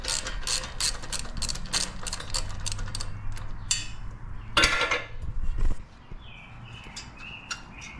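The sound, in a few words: loosening bolts on Yamaha Raptor 700 ATV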